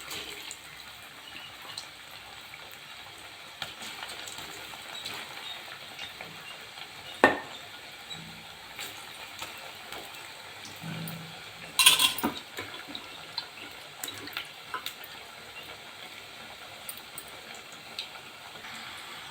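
Eggplant chilli fries in hot oil with a faint, steady sizzle throughout, broken by occasional clinks and scraping stirs of a utensil against the pan.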